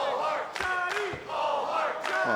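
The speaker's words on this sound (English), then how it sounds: "interesting mix of support from the crowd here in Orlando. Both men getting some vocal support" A wrestling crowd in Orlando roars and chants in support of two men, a dense, loud wall of voices with rhythmic surges and brief dips, close and continuous.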